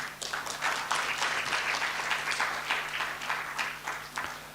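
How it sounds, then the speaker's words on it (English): Audience applause for the jury at a Skill Week closing ceremony in Nepal, a lively stretch of dense clapping from a hall crowd, steady and fairly close with a faint electrical hum beneath. "A round of applause for our jury."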